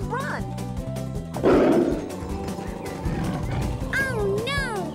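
An animated tiger chasing a baby tapir lets out a loud roar midway, with growls and squealing, cartoonish animal cries around it and voices talking over much of the scene.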